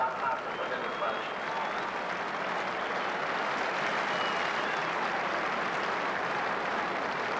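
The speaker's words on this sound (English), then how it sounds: "So the round of applause for Dennis Walsh as he makes his way off" A big crowd at a 1985 Munster hurling championship match between Limerick and Cork applauds as Cork's Dennis Walsh leaves the field, a steady, distant wash of clapping beneath a commentator's voice.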